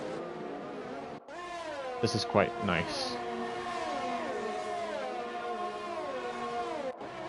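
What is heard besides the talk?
F1 car engine from F1 2020 video game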